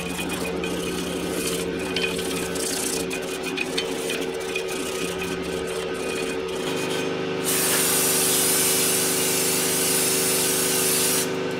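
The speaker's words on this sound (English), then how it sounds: "we're gonna give her a little bit of brake clean" A steady hiss of brake cleaner spray on a Chevy Traverse front brake rotor near a machine hum, turning into a louder, continuous aerosol blast partway through before cutting off.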